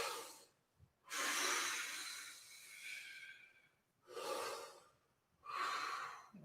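Deep, forceful breaths during a vocal warm-up exercise: a long hissing inhale and exhale, then two shorter sharp breaths, close and clear, with no talking.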